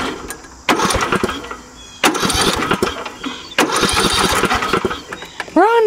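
Mowing tractor engine being cranked in a garage, repeated loud starter churning bursts with pauses between, ending in a short rising whine.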